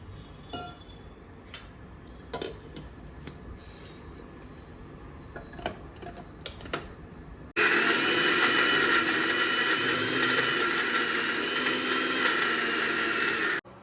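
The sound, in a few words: mixer grinder grinding spice paste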